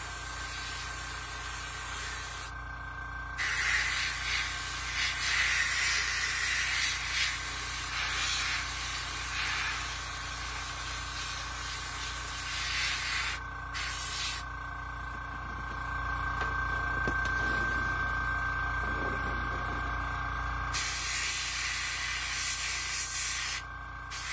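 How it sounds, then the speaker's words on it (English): An airbrush sprays paint onto the mouth area of a detailed resin shark model kit, giving a steady airy hiss that runs through most of the stretch with a few brief pauses, fairly close and without talk. "With airbrush, you got to work at weird angles sometimes."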